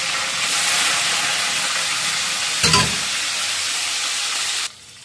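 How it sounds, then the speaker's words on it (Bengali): Fenugreek seeds hit hot oil with a loud, steady hissing sizzle, close by, with a short burst of spattering midway before it cuts off. "তেলটা গরম হয়ে গেলে মেথি ফোড়নটা দিয়ে দিলাম"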